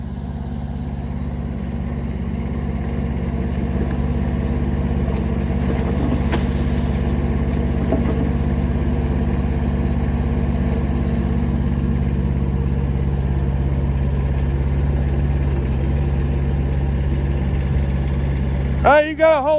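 Steady low drone of a mini excavator's engine running under operation by a 12-year-old boy, holding near and even throughout, with a brief clank of metal near the end.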